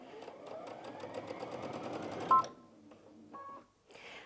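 A Brother Innov-is VQ2 sewing machine stitches fabric in a steady, fast mechanical whir. It stops abruptly, and a few short electronic beeps and brief motor bursts follow.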